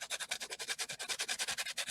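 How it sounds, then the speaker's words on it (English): Sandpaper rubbed back and forth over wood for a dock, a steady rhythm of about twenty close, raspy strokes with no pauses and no voices. "then I simply take the sandpaper again"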